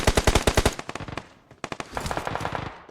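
Rapid automatic gunfire from the mobile battle royale game PUBG Mobile, loud bursts of repeated shots with a short pause before another string of shots, no talking over it.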